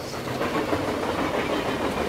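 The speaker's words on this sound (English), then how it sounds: "Wow, there's a train here now." A train rolls past in Euro Truck Simulator 2, a steady rumbling rush with faint clickety-clack of wagons, continuous and fairly close, with no voices.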